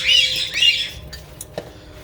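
Pet birds in an indoor bird room give a few bright squawks and chirps, loudest in the first second, then quieter scattered calls with no talking.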